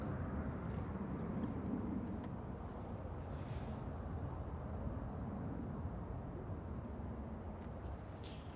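An Aer Lingus Airbus A320-200 takes off from Manchester Airport for Dublin, its engines a steady, broad, fairly distant roar with wind buffeting the microphone throughout.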